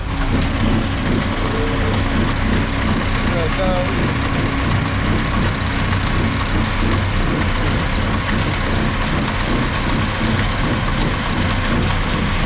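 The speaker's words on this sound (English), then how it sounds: "that fast little PTO is spinning" A tractor's PTO drives a diet feeder wagon inside a cattle shed, giving a steady, loud low-pitched mechanical drone with engine rumble that holds unbroken throughout.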